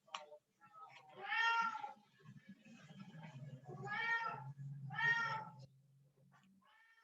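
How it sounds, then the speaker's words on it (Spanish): A pet cat meows three times, each cry drawn out and close, with quieter indoor background sound between them. "Ahí está su gatito, Miss, maullando"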